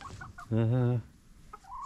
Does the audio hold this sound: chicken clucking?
yes